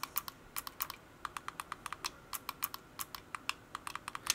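Top buttons of a Razer Basilisk V3 Pro mouse being pressed repeatedly, one engaging its electronic scroll-wheel mode: faint, close, irregular bursts of sharp plastic clicks, some doubled, with no talking.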